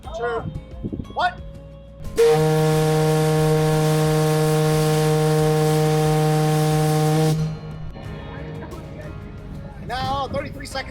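A powerful fog whistle on Mackinac Island blows a loud, sustained buzzing blast for about five seconds, with people talking quietly before and after it.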